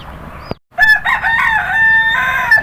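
A rooster crows loudly and close at a small backyard poultry farm in Deoli village, Chalisgaon, one long drawn-out cock-a-doodle-doo following a brief sharp cluck, with no talk over it.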